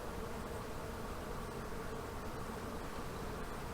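A dense, continuous buzzing of many honey bees in a hive fills the space, steady and close, with no voices.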